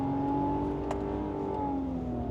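2025 Infiniti QX80 SUV pulling hard in third gear on a track, its engine drone steady and loud with a rising then slowly falling pitch, uninterrupted by talk.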